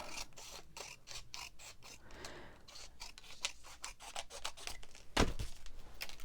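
Scissors cutting strips from paper scraps for a journal, heard close in a series of crisp snips and rustles, with a louder paper crinkle near the end and no talking.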